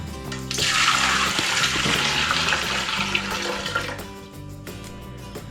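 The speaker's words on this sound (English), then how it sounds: "For the water bath, you'll need 7 cups of warm water" Warm water pours steadily into a container for a pretzel water bath, a loud, continuous gushing rush that tapers off near the end.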